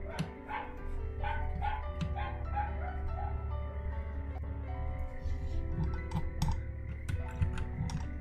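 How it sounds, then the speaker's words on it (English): Several dogs outside bark and yip repeatedly in excited bursts, muffled through walls, while computer keyboard typing clatters close by indoors. "the fucking dogs outside are going crazy"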